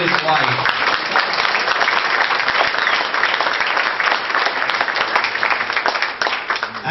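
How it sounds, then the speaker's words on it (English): Sustained, loud crowd applause fills a campaign meet-and-greet for Ron Paul in Davenport, Iowa, steady dense clapping throughout with cheering voices mixed in, tapering slightly at the end. "I'm hearing a lot of applause,"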